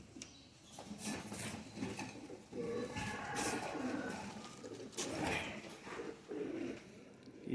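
Pigeons at a pigeon seller's loft in Karachi coo softly and continuously, with low murmuring calls rising and falling over a quiet background.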